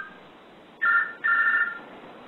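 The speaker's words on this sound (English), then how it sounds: "I forgot to turn my cell phone off." A cell phone rings during a talk on holodynamic psychotherapy: two short bursts of a bright electronic tone, the second longer, sounding fairly close over a quiet room with no speech.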